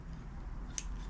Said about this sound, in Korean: 휴지마저도 안 잘리네요.